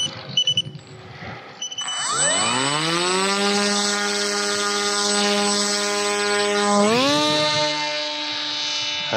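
An FX-61 fixed-wing drone's electric motor spools up from a few faint clicks into a loud, steady whine with rising harmonic tones, stepping higher again near the end as it takes off, close by with no talking.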